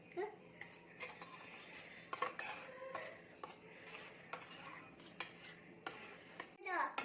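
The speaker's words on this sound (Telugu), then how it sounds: "తిప్పు, స్పూన్తో తిప్పే" A spoon stirs omelette mixture for grandpa, with chopped capsicum, salt, turmeric and chili, clinking against a bowl in short irregular scrapes and taps, close and fairly faint, with a child and an adult talking over it.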